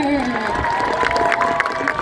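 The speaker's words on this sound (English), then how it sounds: "Can we keep that applause going for her?" A crowd at the Hersheypark Aquatheater seal show keeps applauding after a seal's trick, a steady wash of clapping and light cheers under an announcer's continuous talk.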